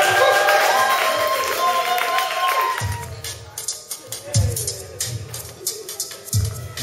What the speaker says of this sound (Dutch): Even voor ons doen een groot applaus